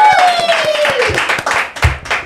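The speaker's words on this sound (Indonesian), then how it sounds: "Tepuk tangan guys" A few people clapping their hands during a casual food-tasting of Indomie goreng kebuli, with a talking voice and other sounds layered over the brief, uneven claps.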